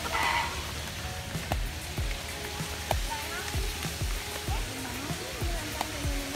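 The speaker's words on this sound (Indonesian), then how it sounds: "Ada air terjun." Waterfall at a bird park in Bali, a steady rushing wash of falling water close by, with sharp knocks and clicks cutting through and people talking over it.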